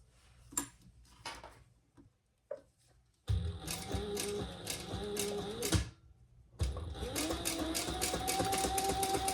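A sewing machine stitches pieces of a retro-style sling together. A few faint clicks and handling noises come first, then two loud, rapid runs of stitching separated by a short pause.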